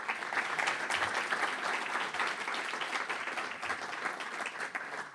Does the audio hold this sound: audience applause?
yes